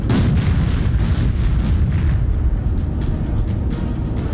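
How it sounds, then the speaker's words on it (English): A warship's guns firing a broadside in Battlestations Pacific during the invasion of Midway: loud, continuous rumbling booms and overlapping blasts with heavy low-end roar, close and alone. "Only forward guns are firing now. Prep to give them a broadside."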